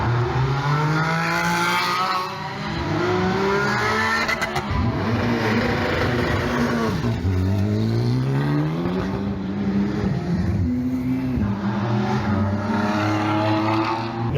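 GT4 race cars pull out of the pit lane one after another at the 24 Hours of Spa on a rainy day, engines revving loudly through gear changes and rising pitch sweeps as they pass close by.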